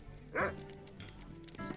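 A dog in a small shop in Bree town in the video game LOTRO gives a short, quiet bark, then a second faint bark follows a moment later over low background ambience.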